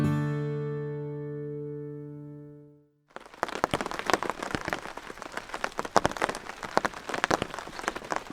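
Steady rain pours down on a stormy coast, a dense crackling patter with scattered sharper drops, following a long sustained electronic tone that fades to silence.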